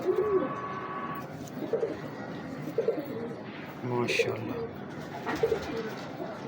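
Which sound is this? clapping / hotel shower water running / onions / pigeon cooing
pigeon cooing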